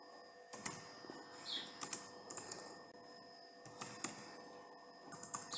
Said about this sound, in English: Let me type next P, and then on this next P I'm going to type back.